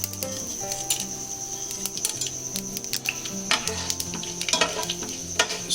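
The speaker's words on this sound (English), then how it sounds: "Saute it for about 15 to 20 seconds till the dal starts changing its color." Chana dal and mustard seeds fry in sesame oil for a tempering, a loud, busy sizzle with crackling pops and stirring scrapes, backed by music.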